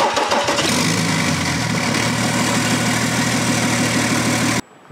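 A car engine cranks and catches, then settles into a steady, loud idle that runs close up for several seconds before cutting off sharply near the end.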